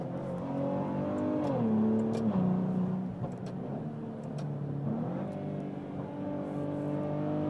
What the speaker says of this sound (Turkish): Şu an normal moddayken de çok tatlı bir ses çıkartıyor egzozdan.